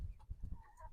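Meat chickens on a ranch in fall give a few soft, short clucks, close by and quiet, within a brief moment.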